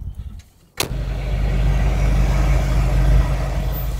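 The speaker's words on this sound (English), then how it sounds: "there's a huge loud truck coming" After a brief quiet moment, a sharp clack gives way to a loud, rumbling truck engine roaring close by and holding steady.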